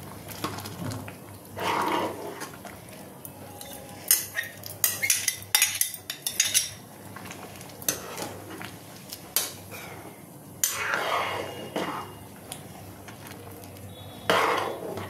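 Boiled whole potatoes are mashed in a pan for ghugni, with intermittent metallic scrapes, taps and soft squashing knocks from a utensil, close and moderately loud, in irregular bursts.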